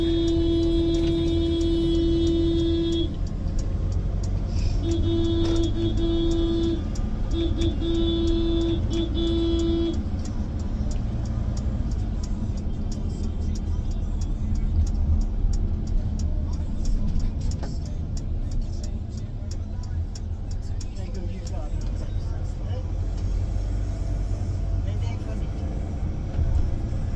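A convoy of trucks on a Truckersrit 2024 drive, heard as a continuous low engine rumble from inside a vehicle. Steady horn-like tones sound in the first ten seconds, and people talk throughout.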